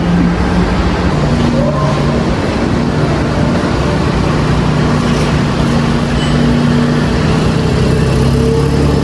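A car's engine idles on a used-car dealership lot, giving a steady, loud, unbroken rumble with a low droning tone that holds evenly throughout.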